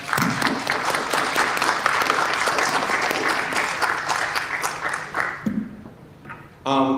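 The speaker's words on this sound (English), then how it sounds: "can we just give the students a round of applause?" A seated audience at a university psychology department discussion gives students a dense, steady round of applause that runs for several seconds, thins out near the end, and is followed by a brief voice.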